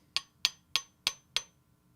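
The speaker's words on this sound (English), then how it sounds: "Take any type of hammer and then just kind of tap it out." A hammer taps a tape-wrapped punch to drive the detent pin out of a J.C. Higgins Model 20 shotgun: five sharp, evenly spaced metallic taps, close and clear against a quiet background.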